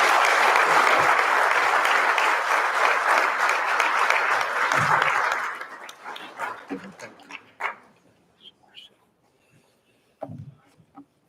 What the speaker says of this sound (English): can we all give a round of applause for the Family Justice Center and for today?